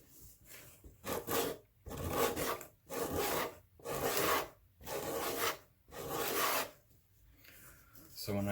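Leather journal cover edge being rounded off and smoothed with a rasp-like tool, a series of about seven close, steady scraping strokes with short pauses between them, heard alone without talk.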